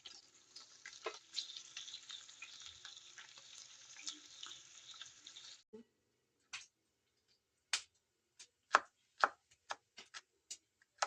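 Pork fat sizzles steadily in a pan as it renders, a soft crackling hiss, then it stops and scattered sharp pops and spits follow at irregular intervals.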